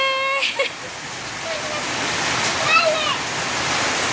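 Heavy overnight storm rain pouring down outside, a steady, loud, close wash of water that fills the whole stretch, with a few faint tonal sounds near the start.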